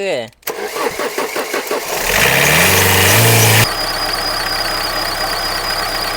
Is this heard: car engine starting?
yes